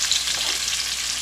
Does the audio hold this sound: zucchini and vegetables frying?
yes